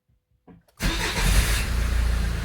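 A Mitsubishi Pajero engine running in emergency mode cranks briefly after a quiet pause, then catches and settles into a loud, steady, throbbing idle close by.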